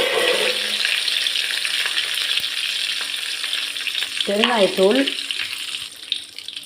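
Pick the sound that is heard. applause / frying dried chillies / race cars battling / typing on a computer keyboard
frying dried chillies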